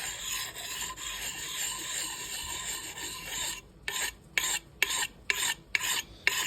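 Hand file rasping along an axe blade edge after it struck a lump of rock, first a steady continuous grinding, then about seven short separate strokes pushed in one direction, close and clear with no talk.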